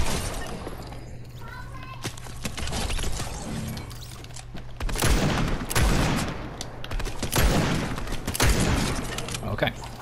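Gunfire from a hunting rifle and other weapons in the Fortnite Gun Game mode, with repeated sharp cracks and bursts of shots over a steady game soundscape and a player talking throughout.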